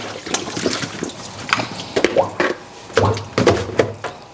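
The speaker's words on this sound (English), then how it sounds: "So I am just going to drain the water." Water drains from boiled peeled yams, splashing and dripping in uneven bursts, with occasional soft thunks, close and moderately loud.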